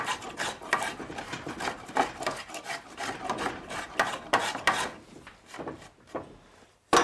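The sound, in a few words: wooden door wobbling while being worked on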